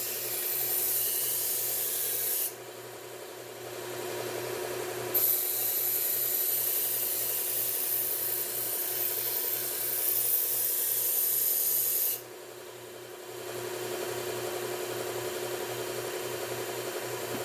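A luxury kitchen knife is drawn steadily along a sharpening stone to raise a burr, producing a continuous close grinding rasp that pauses briefly and then resumes with no one talking.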